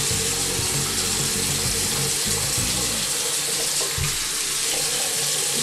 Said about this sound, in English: I'm going to start by rinsing my hair.